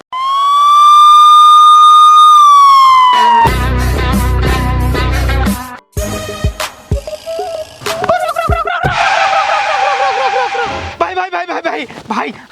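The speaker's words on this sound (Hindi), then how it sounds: "ये तो पागलों की एम्बुलेंस है।" A loud, steady siren tone holds for about three seconds, then breaks off into busy music and scattered noises.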